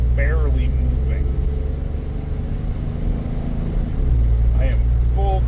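A car with a loss-of-power fault runs at full throttle yet barely moves. Its engine holds a steady, loud, low drone, with someone talking over it.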